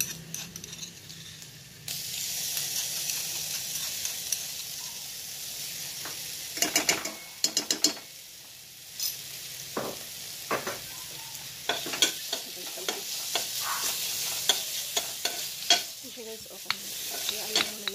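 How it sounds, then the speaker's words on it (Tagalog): Garlic and chili sauté in hot oil, a steady sizzle and fry hiss with stirring scrapes and sharp clinks of a utensil against the pan, no talking. "let's saute our garlic and chili"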